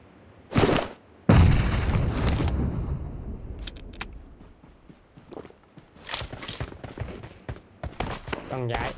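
Mosin rifle fire in the mobile battle-royale game PUBG Mobile comes as several loud, sharp reports spaced apart, mixed with other game noises. A voice talks between the shots.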